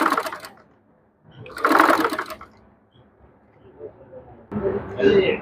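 A sewing machine stitches along the folded side edge of fabric for a lace-trimmed V-neck, running in two or three short bursts with pauses between, and a voice speaks in the gaps.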